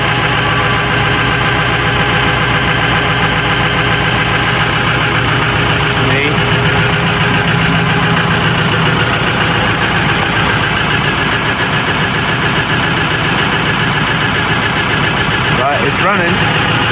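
Abandoned Ford 6.0 Powerstroke diesel with a ZF6 transmission idling roughly and misfiring, not running on all cylinders; a steady, loud, continuous engine drone fills the whole stretch with some irregular knocks and a brief rattle near the end.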